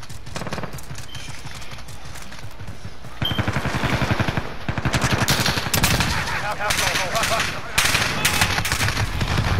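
Rapid video game gunfire crackles in dense bursts throughout, growing louder and heavier in the second half, with brief vocal sounds mixed into the shooting.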